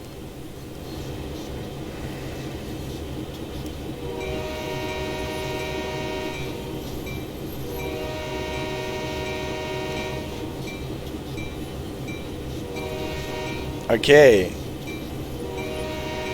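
A simulated 14L locomotive horn sounds in a train simulator game, with the rumbling drone of the train throughout, the horn blasts faint and sustained, and a brief louder clunk near the end with a short spoken word.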